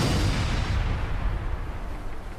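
A cannon shot is fired at a ship in a children's pirate show, heard as a loud, sustained rumbling boom that fills the whole moment, close and alone, with no talking.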